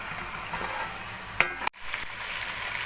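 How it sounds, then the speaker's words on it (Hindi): Garlic frying alongside chicken in a pan for a degi chicken korma, giving a steady close sizzle with a couple of brief stirring knocks midway. "अब इसको भी इसी के साथ भून लेंगे।"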